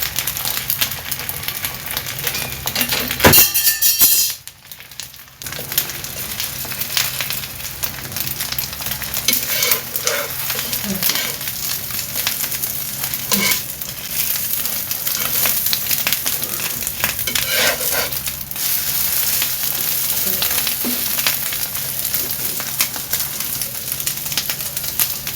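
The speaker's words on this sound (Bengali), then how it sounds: "এই যে ছেলের জন্য ঝাল ঝাল করে পেঁয়াজ দিয়ে কাঁচামরিচ দিয়ে ডিম ভাজতেছি।" Eggs frying with onion and green chili in a home kitchen, a steady bright sizzle throughout with a sharp spatter burst near the start and a brief dip, then constant crackling hiss with occasional louder pops.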